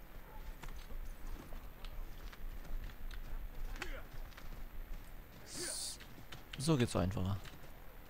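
Light hoof clip-clops patter in the background of an Assassin's Creed 3 game scene on a street, with someone speaking briefly near the end.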